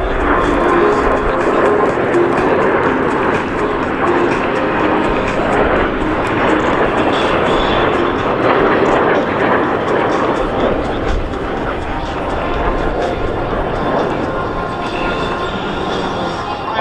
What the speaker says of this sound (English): The L-39 is a checkmate trainer and one of the most popular warbirds